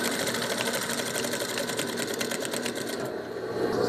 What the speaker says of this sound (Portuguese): Vou passar uma costura. Dando retrocesso.